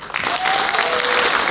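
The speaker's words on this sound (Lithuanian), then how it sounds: "Didžiausi aplodismentai Valaukiui" Audience applause fills the hall at a traditional kanklės ensemble's anniversary concert. A short burst of clapping quickly swells to full, with a faint voice rising briefly over it.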